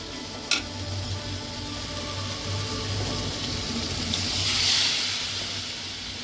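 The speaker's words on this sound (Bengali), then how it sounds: "আমি সামান্য পরিমাণে জল দিলাম" Water is poured into a pan of frying potatoes for Mathura-style dubki aloo, making a steady hiss and gurgle of sizzling liquid, close and fairly loud throughout.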